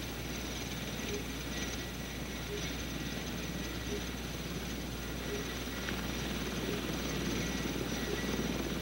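Sikorsky CH-54 heavy-lift helicopter hovering while lifting a load, its rotor and turbine roar loud, steady and constant throughout.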